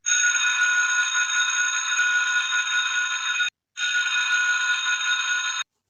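A loud electric school dismissal bell in a children's cartoon rings continuously for several seconds, pauses briefly, then rings again for a couple more seconds before stopping.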